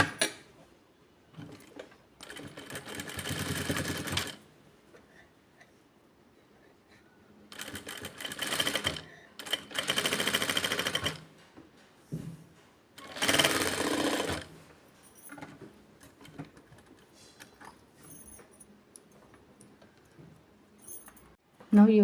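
A sewing machine runs in several separate bursts while stitching a deep round neckline, each run a few seconds long, with quieter pauses between them and a voice speaking at times.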